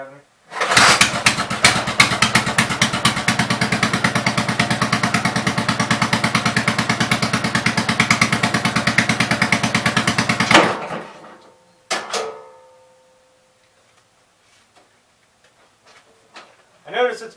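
A 1987 Gravely Pro 8 tractor engine runs loudly and close with a steady rapid chugging for about ten seconds, then cuts off, followed by a brief sputter and quiet clanks.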